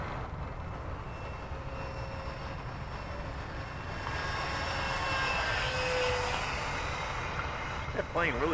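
Freewing F9 Panther RC model jet flying on a morning flight, a steady distant whine and rush that swells somewhat louder midway, with a faint noisy background throughout.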